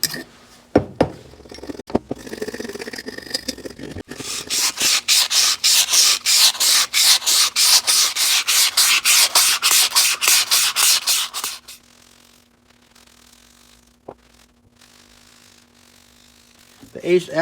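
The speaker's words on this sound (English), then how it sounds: "I wanted to rough this up with a little bit of sandpaper so it would stick good to the bare metal" Sandpaper roughing up bare metal on a Wood-Mizer saw blade sharpener during repair, a long steady run of rapid back-and-forth rasping strokes, close and loud, after a few scattered knocks and before quieter handling sounds.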